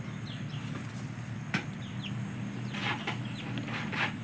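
Pet birds, including silkie chickens, chirp and cluck in a steady background din, with scattered brief calls and a sharp sound over constant low noise.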